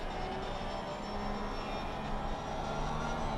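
A Porsche GT3 race car's engine drones steadily at full throttle out of a corner at Barcelona in Assetto Corsa Competizione, a continuous loud mechanical roar with no break across the moment.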